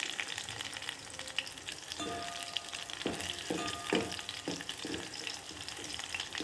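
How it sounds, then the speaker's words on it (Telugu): Mustard seeds and chopped dried red chilies frying in about six spoons of hot oil, a steady close sizzle with scattered crackling pops and a few sharper spatters, no voices over it. "ఆరు చెంచాల నూనెను వేసుకొని వేడెక్కిన తర్వాత ఒక చెంచా ఆవాలు నాలుగు ఎండుమిరపకాయలు ముక్కలుగా కట్ చేసుకొని వేసుకోవాలి"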